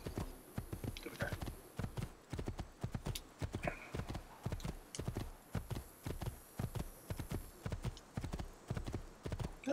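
Steady clip-clop of horse hooves trotting at a regular rhythm in Assassin's Creed II, close and clear, with a brief whinny and faint background tones.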